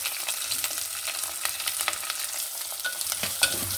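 Mustard seeds, cumin, curry leaves and onion fry in hot oil, a close, steady hiss and crackle with scattered pops and no voices.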